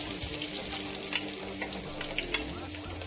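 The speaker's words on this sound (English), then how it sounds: "So now the vegetable oil is hot. The first thing you do is to pour in your red onion." Chopped red onion hits hot vegetable oil in a pan for a Nigerian egg sauce, setting off a steady, close hiss and crackle of frying that runs unbroken throughout with no voices.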